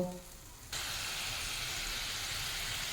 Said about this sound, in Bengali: খুব ভালোভাবে ফুটতে শুরু করে দিয়েছে